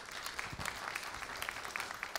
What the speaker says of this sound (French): C'est très bien, applaudissez pour elle.